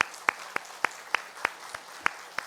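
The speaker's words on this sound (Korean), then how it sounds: "우리 모두 박수로 환영하고" Distinct, rhythmic claps at a Sunday church service welcoming two babies to the congregation, about nine sharp, evenly spaced hits rather than a dense crowd roar, moderately close and without talk.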